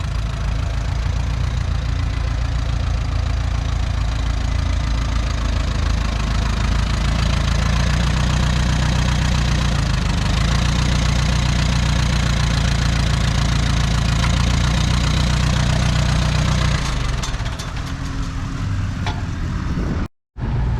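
Case VAC tractor engine running steadily at a threshing show, a loud continuous low chugging idle close by that carries for about seventeen seconds before the sound shifts and cuts off near the end.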